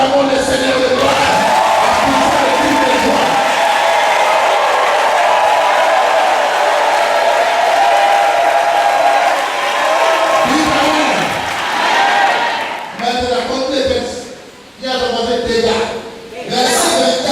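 A church congregation at a worship service claps and cheers in a loud, sustained crowd roar that fills most of the stretch, thinning into scattered bursts and voices near the end.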